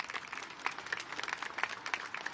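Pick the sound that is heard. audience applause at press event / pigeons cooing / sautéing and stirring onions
audience applause at press event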